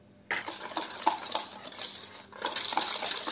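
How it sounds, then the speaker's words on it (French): A whisk beats sugar, cornstarch and eggs in a mixing bowl, giving quick clinking, scraping strokes that start abruptly and continue in an uneven, energetic rhythm. "je vais venir blanchir le tout au fouet énergiquement"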